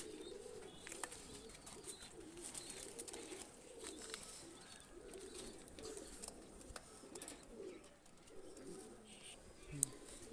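Soft, low cooing of Pakistani high flyer pigeons repeating in short phrases at a moderate distance, with faint background noise and occasional light clicks.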